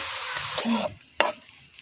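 Bharta ingredients frying and being stirred in a pan, a steady broadband sizzle that cuts off briefly before a short sharp scrape or clatter of the spatula, close and moderately loud with no talking.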